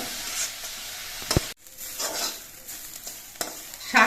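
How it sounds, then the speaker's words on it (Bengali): Radish greens are fried in a pan over a medium flame and stirred, with a soft sizzle under busy scraping and tossing. One sharp utensil clank stands out near the start, and the stirring stays close and continuous. "এইভাবে নেড়ে চেড়ে কিছুক্ষণ রান্না করে নিতে হবে"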